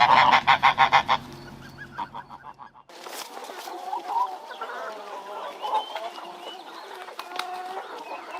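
Geese and goslings on a farm honk loudly in rapid repeated calls, followed by softer mixed honking and chattering from the flock in an outdoor setting with faint background activity.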